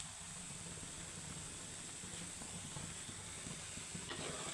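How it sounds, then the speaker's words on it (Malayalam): A pot of fish curry simmers with a soft, steady hiss and faint bubbling, quiet and unbroken throughout. "നമ്മുടെ മീൻ കറി നല്ല തിളച്ച് വന്നിട്ടുണ്ട്"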